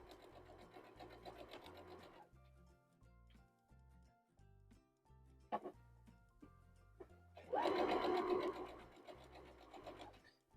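A sewing machine stitches two lined-up pieces of fabric together for a quilt flower block, running in a short burst, pausing with faint clicks, then a louder, faster run near the end.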